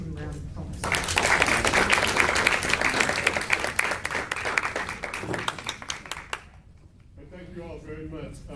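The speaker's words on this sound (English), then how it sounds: "Let's give him a round of applause." Audience applause for artist Willis Bing Davis at a Dayton Funk symposium, a dense burst of clapping from a seated crowd that swells quickly, holds for several seconds, then thins out into a voice speaking.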